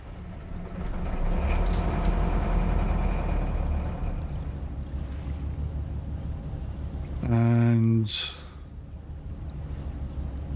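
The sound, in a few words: cruise ship engines starting in NauticXP video game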